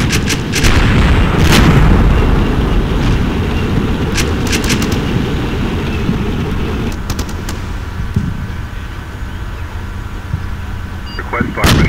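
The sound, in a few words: artillery fire in video game Combat Mission: Shock Force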